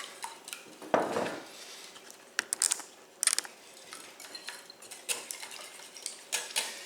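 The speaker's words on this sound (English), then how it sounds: "Okay, and then just whisk them up." Eggs are beaten and whisked in a bowl, quick irregular metallic clinks and taps against the rim, fairly faint and close, with a few louder knocks and no talking.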